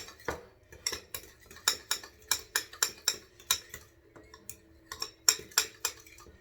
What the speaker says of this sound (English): Mix it all up, give it all a good stir.